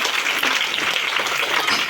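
Audience at a Christian church gathering clapping loudly in praise of Jesus at Christmas, a brisk burst of many hands clapping together, close and energetic, with no speech over it.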